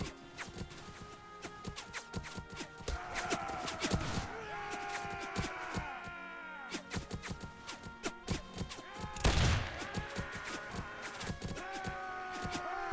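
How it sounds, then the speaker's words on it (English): Rapid musket gunfire crackles through a Mount & Blade Warband battle, dense overlapping shots with one heavy volley burst, mixed with clashing combat noise and someone talking over it. "You can hear the bullets flying"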